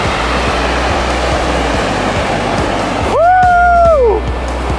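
Ocean waves at the Cape Scott coast on a backpacking trip: a steady, loud broadband wash of surf fills the clip, with a brief rising-and-falling whistle or call near the end.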